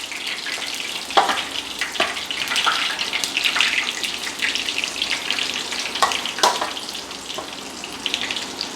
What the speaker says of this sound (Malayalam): അപ്പോൾ നമുക്ക് ബാക്കിയും കൂടെ ഫ്രൈ ചെയ്തെടുക്കാം